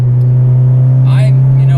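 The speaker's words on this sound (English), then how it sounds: "Like I don't really like the sound of my car." A modified Hyundai Genesis running on E85 fuel holds a steady, loud engine drone while accelerating, heard from inside the car with people talking over it.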